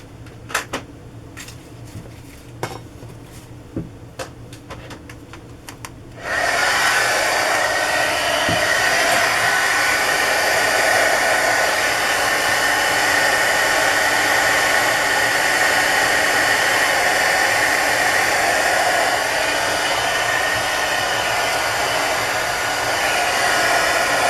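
A hair dryer switches on after a few seconds of quiet rustling and blows steadily at close range, loud and unbroken, drying freshly made vocabulary cards.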